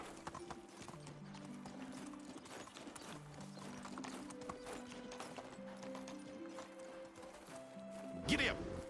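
Steady clip-clop of horse hooves during riding in Medieval Dynasty, rhythmic and continuous, joined by a background melody and a brief louder rustle near the end.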